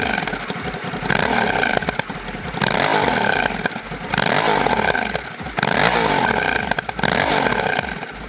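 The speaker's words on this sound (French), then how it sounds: "Honda a ajouté un petit coup de gaz lors du rétrogradage automatique de la moto" Honda Africa Twin DCT motorcycle on the move, its engine rising and falling in repeated surges as the automatic gearbox downshifts with quick throttle blips, loud and close over rushing wind.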